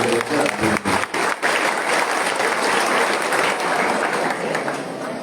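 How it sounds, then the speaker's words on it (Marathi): A crowd at a birthday event for former state sports minister Sanjay Bansode claps in a burst of applause, choppy at first and then settling into a sustained, even roar of clapping. "पहिल्यांदा आपण सर्वांनी टाळ्या वाजून प्रकाश"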